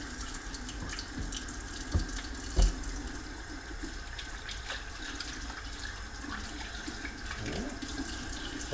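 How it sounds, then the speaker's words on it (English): A kitchen tap runs steadily while someone washes their hands after handling shrimp, a close, even splash with a couple of brief knocks partway through and no talking. "Wash my hands."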